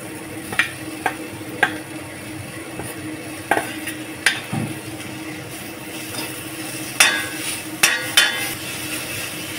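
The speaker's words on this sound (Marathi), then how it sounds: "जी कैरी थोडी शिजेपर्यंत आपण म्हणजे हे हलवून घेते मी" Raw green mango pieces stirred in a pan for masala mango rice, a steady sizzle with repeated sharp spatula knocks and scrapes against the metal, close and clear with no talking.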